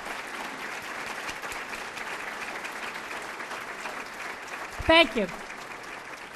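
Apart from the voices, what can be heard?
applause for standing trustees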